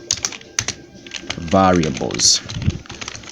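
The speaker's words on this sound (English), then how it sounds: "don't mind my typing here" Keys clatter on a computer keyboard in quick irregular bursts, close and crisp, while someone talks over the typing at the start and again near the end.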